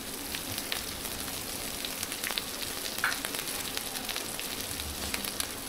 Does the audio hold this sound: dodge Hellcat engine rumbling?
no